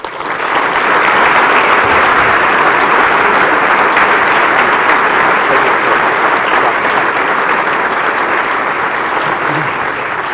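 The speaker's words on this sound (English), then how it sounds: "let's put our hands together and give Mr. Craig McFarland a warm" An audience at a 2015 Chamber of Commerce awards ceremony in Connersville claps in loud, sustained applause that fills the whole stretch without a break.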